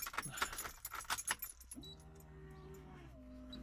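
A bunch of keys jangles loudly in a few quick shakes while the ECU is switched on in a car with a 1UZ engine and methanol injection; a steady low electrical hum follows once the jangling stops.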